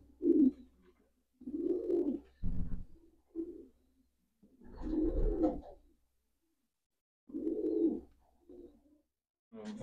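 Racing pigeons in a loft coo in several low, throaty bursts separated by pauses, close and moderately loud, with one sharper fluttering rasp between calls.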